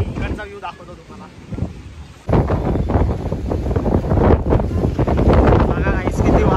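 Strong wind buffets the microphone in rough, loud gusts that surge sharply after a calmer start, with voices faintly mixed in.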